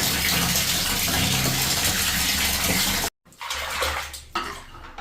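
Tap water gushes loudly and steadily into a tub being prepared with shampoo for washing warm woollen clothes at home, then cuts off briefly before quieter sloshing and clinks follow.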